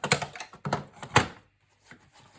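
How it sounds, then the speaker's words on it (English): Paper trimmer slicing cardstock while making a scrapbook travel album, three sharp close crisp cutting strokes in quick succession followed by faint quiet handling. "I'm going to grab my trimmer."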